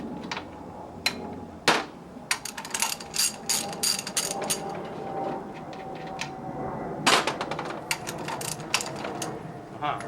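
A hand ratchet loosens set screw nuts that hold down the valves on a 5HP Quincy model 325 compressor during teardown, giving bursts of quick clicking pawl ratchets and metallic knocks at close range in a quiet room.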